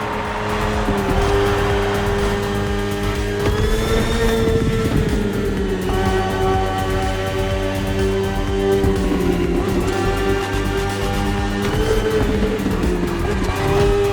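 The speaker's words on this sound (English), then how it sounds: "The one you're riding is the S1000RR. It's what we call a superbike." A BMW S1000RR superbike races in The Crew Motorfest, its high-revving engine screaming steadily and rising and falling through gear changes, loud and close with no talk.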